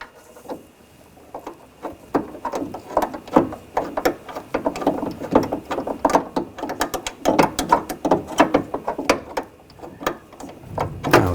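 Sharp rapid clicking of a hand ratchet tightening nuts on the front window regulator of a 2000-2006 BMW X5, in quick bursts of close, loud ticks with brief pauses between strokes.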